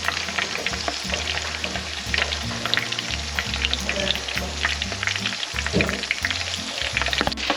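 Sand crabs fry in a hot pan with a dense, steady sizzle and crackle, loud and close, with occasional scrapes and clinks from turning them over.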